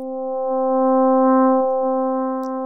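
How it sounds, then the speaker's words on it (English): Steady synthesizer sine-wave bass tone used in FM synthesis bassline programming, held continuously at a constant pitch with a faint overtone stack, alone and fairly loud throughout. "I'm going to go back to the sine wave there."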